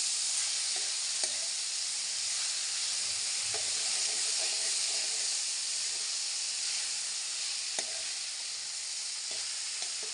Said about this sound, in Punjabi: ਇਹਨਾਂ ਨੂੰ ਵੀ ਆਪਾਂ ਫਰਾਈ ਕਰ ਲੈਂਦੇ ਹਾਂ